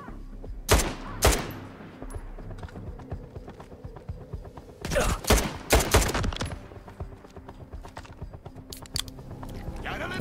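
Gunfire in the shooter video game Stalker 2: sharp bursts of shots crack out near the start and again in a dense cluster around the middle, over a steady low in-game ambience.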